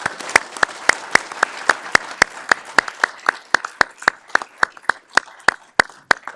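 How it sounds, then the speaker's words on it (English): A room of audience members applauds award winners at a scientific awards ceremony, with evenly spaced sharp individual claps standing out clearly over a softer spread of clapping throughout. "let's give all the awardees a round of applause"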